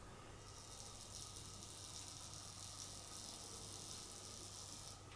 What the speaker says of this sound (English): that sound is because of the PWM in the Cardo SX controller